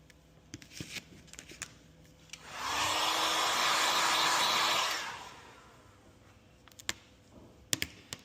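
A heat gun blows steadily for about two and a half seconds as it heats tint film on a 2019+ Chevrolet Silverado taillight, a loud close whoosh rising and fading, with light handling taps before and after.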